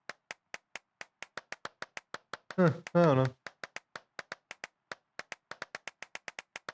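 Steady hand clapping in an abandoned church, dozens of sharp, evenly spaced claps that pause briefly while someone speaks, then carry on at the same brisk pace.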